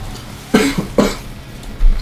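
Two quick, close coughs about half a second apart, loud and dry, with a brief low thump at the end and almost no other sound.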